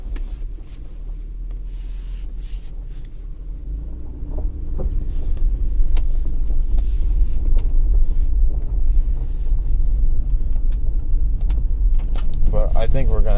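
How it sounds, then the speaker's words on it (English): A 2006 Mercury Mountaineer 4.0L SOHC 4x4 creeps around a parking lot, its engine a low rumble that grows heavier partway through, with wind buffeting and cabin rattles close to the microphone. "Let's drive around here in the parking lot."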